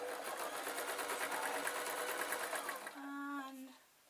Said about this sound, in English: then I'm going to literally top stitch this.